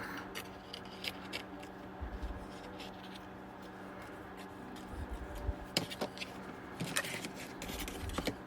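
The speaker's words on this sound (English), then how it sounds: "I'm just going to do kind of a rough cut for it." Scissors rough cutting gray and pink plaid fabric, quiet close snips and crisp cutting sounds at irregular intervals in an otherwise quiet room.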